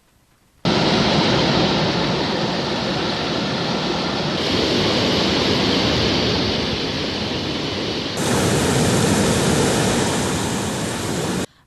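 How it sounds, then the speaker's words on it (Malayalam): Heavy river water pours steadily through five opened shutters of the Edamparamb check dam on the Gayathri river after days of heavy rain, a loud, continuous close-up roar of rushing water with no voices. "അധികൃതർ 5 ഷട്ടറുകളും തുറന്ന് അധിക ജലം പുഴയിലേക്ക് ഒഴുക്കിവിട്ടു"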